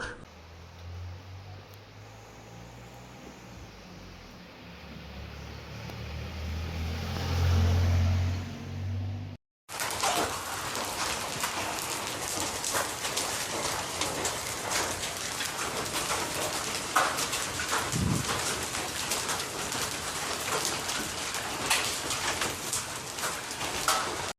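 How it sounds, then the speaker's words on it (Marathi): Sudden rain in Amboli, a hill station in Sawantwadi taluka, pours down in a dense, steady outdoor hiss after a muffled opening segment, with no talking. "सावंतवाडी तालुक्यातील थंड हवेचं ठिकाण म्हणून प्रसिद्ध असणाऱ्या आंबोली इथं पावसानं अचानक हजेरी लावली"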